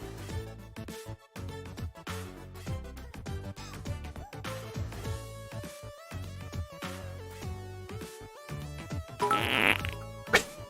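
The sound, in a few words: fart noise sound effect on a stream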